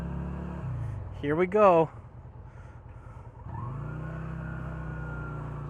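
A motorcycle idles, then its engine rises again as it rides off around a waiting line of people, a steady close rumble with a rider speaking briefly in between.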